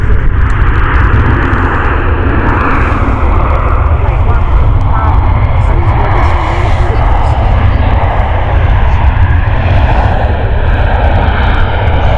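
Ryanair airliner passing at Stansted Airport, a steady, loud, broadband jet engine roar holding for the whole stretch, with a voice talking faintly underneath.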